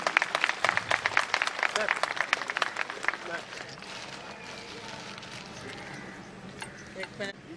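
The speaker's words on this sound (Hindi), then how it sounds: "ये राम दरबार है, जोरदार ताली से अभिनंदन करिएगा।" An audience greets a Ram Darbar tableau with loud applause, many hands clapping in a brisk, dense patter that fades after a few seconds into a quieter murmur, with a few stray claps near the end.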